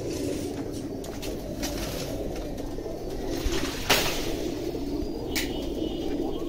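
Breeder pigeons in a loft coo softly and repeatedly over a low, steady background murmur, with an occasional brief flutter or tap nearby.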